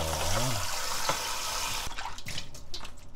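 Sea eel is washed with salt under running water in a kitchen, a steady gush from the tap with splashing and dripping that breaks into irregular sloshes as the hands work the fish.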